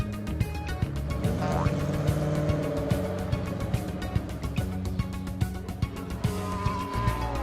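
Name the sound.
cartoon cars racing to the finish line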